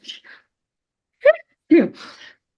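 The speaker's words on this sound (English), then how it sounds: "Suddenly the sneezes came to me" A single sharp sneeze bursts out between brief snatches of a woman's speech indoors.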